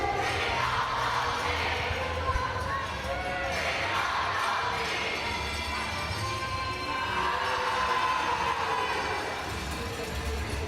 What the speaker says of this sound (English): for those of you at home wondering what the crowd is chanting